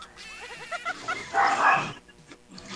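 A dog barks in a quick series of short, yappy barks that build into a louder, harsher burst near the middle and then stop, with a brief faint vocal sound toward the end.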